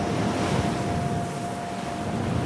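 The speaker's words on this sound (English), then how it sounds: "Strong winds are blowing over the waves." Strong wind blows over the waves of the German North Sea, a steady, full-bodied roar of gusting air and surf that holds without pause.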